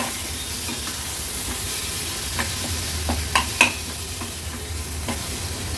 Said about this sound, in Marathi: व्यवस्थित परतून घ्यायचं आहे आपल्याला